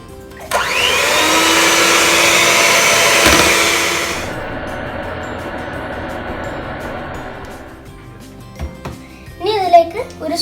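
Condensed milk and whipped cream being beaten together by an electric mixer or blender for a biscuit pudding, a loud steady whirring motor that runs for several seconds, then eases to a softer drone before cutting out.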